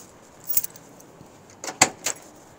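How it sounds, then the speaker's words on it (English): A 1969 Pontiac Bonneville door being shut, with a few soft metallic clicks and then a firm thud with a short rattle, close and fairly quiet. "Listen to how the door is closed too."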